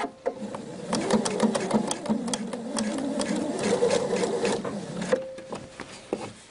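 A sewing machine stitches a band onto a dolman dress, running as a close, continuous rattling whir with short stops and sharp clicks of fabric handling, with faint speech in places.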